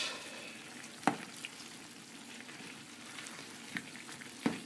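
Sliced eggplant and tofu frying in a hot pan make a steady, soft sizzle throughout, with a few brief clanks of a utensil against the pan and no talking.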